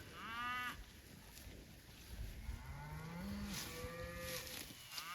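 A cow in winter condition moos outdoors, several long low bellows with rising and falling pitch, one short call at the start and drawn-out calls later, fairly close over a breezy background.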